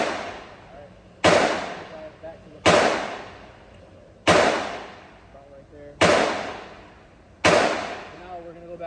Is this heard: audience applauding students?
no